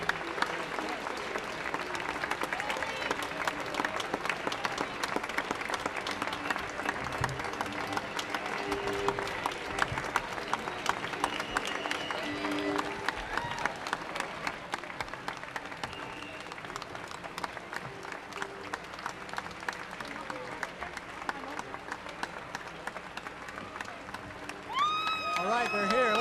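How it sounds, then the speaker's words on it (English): A crowd claps for arriving runners, a sustained distant patter of applause with voices talking and calling over it throughout. "give them another big round of applause"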